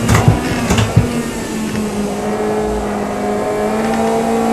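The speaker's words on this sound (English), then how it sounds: "we're at high revs and we're starting to spin the tyres" A car engine roars at high revs in third gear in a steady, strained drone as the tyres start to spin, with a few rough bumps and knocks near the start.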